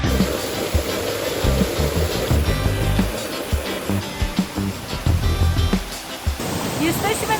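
A waterfall on the Brecon Beacons Four Falls Trail, running at low water level, roars steadily nearby in a dense continuous wash, with a person speaking over it.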